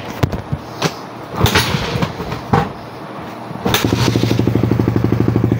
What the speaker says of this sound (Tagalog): Pinadyakan natin, umandar